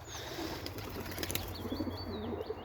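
Pigeons flying out of a loft at a pigeon display, wings flapping in soft bursts with faint chirps and coos nearby, quiet against a low background hum.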